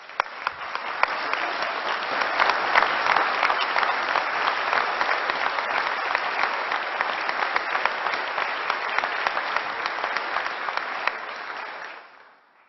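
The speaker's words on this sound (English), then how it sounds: "Please give a round of applause to a great family man and a hard worker" An audience at a governor's state budget address breaks into sustained applause, a dense, even roar of clapping that holds for about twelve seconds before cutting off.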